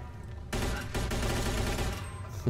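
Thompson submachine gun fired in Mafia II, a dense, loud burst of automatic gunfire that starts abruptly and rattles continuously for about two seconds before a final close shot.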